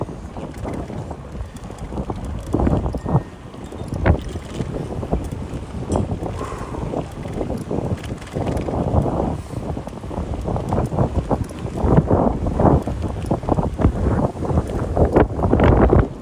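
Steady, roaring wind buffets the microphone while an electric bike rides the Jamaica Bay Loop in New York City. The noise is loud, continuous and gusty, and no voices are heard.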